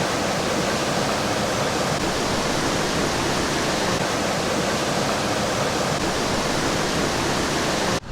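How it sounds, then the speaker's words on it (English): Steady, dense rush of a small waterfall just upstream in the mountains, a continuous broadband roar of falling water that stays loud and unchanging throughout, with no voices. "most of the sound there was coming from that little waterfall that was just upstream"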